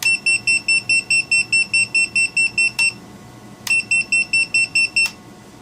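Through its tone switch, a Lantian super loud electronic buzzer pulses in rapid, even beeps, loud and near, pausing briefly after a long run before the rhythmic beeping resumes.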